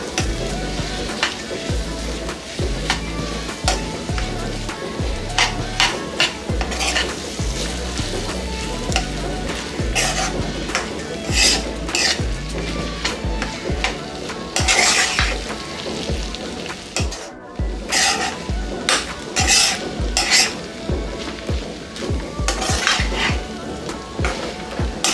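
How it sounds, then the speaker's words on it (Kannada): Tamarind rice with coriander stirred in a pan, a steady scraping and clinking of a spoon against metal over a low sizzle, continuous and close with no voices. "ಇದೆಲ್ಲ ಚೆನ್ನಾಗಿ ಮಿಕ್ಸ್ ಮಾಡ್ಕೊಳ್ಳೋಣ."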